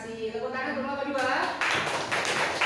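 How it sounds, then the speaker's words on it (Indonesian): A school class claps for a student group after their presentation. A voice speaks first, then a burst of hand claps takes over for the rest of the moment, close and fairly loud. "Tepuk tangan untuk kelompok 2."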